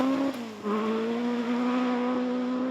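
A historic-spec Ford Escort rally car drives a stage at a Welsh rally in North Wales, its engine holding a steady, loud, buzzing note that dips briefly as the driver shifts.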